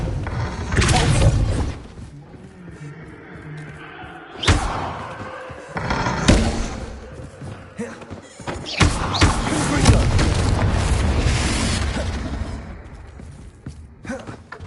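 Repulso spell blasts in the Hogwarts Legacy game on PS5: several heavy booming thuds and slams land in bursts, loud and close, with rumbling impact tails and some game noise between them.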